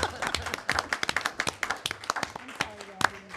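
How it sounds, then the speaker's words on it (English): Scattered applause from a small group of board members and attendees at a school board meeting, a short burst of distinct, uneven hand claps with voices talking underneath. "I kind of feel like this all deserves some applause."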